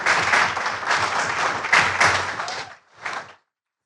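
A small audience at a live pub event claps in a brisk, fairly close round of applause that fades out, then a last short burst before silence.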